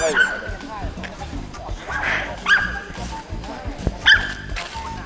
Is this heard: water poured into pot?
no